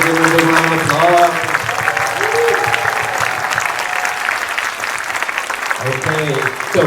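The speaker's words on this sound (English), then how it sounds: "everyone give a big round of applause." An audience at an elementary school winter concert gives a broad, sustained round of clapping for a fourth grade orchestra, while a speaker's voice cuts in over the applause at the start and again near the end.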